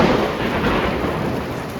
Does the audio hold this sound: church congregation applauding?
no